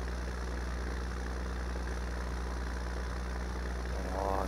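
Small, low-powered tractor engine in Farming Simulator 19 labouring under load, a steady close drone with constant low hum and rough mid-range rumble that holds throughout and swells slightly at the end.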